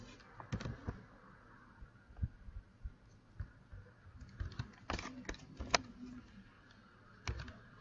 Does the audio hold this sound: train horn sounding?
no